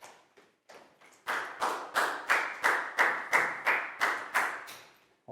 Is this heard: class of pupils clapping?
yes